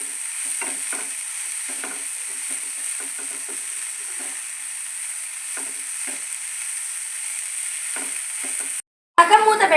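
Vegetable filling for veg momos being stirred in a pan, soft scraping strokes repeating in bursts over a quiet sizzle, ending in a brief louder clatter.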